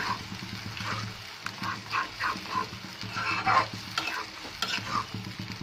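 Goat brain frying with spices in a pan while being stirred and mashed, close wet scraping and sizzling in uneven bursts, with a low hum and a faint dog-like bark underneath.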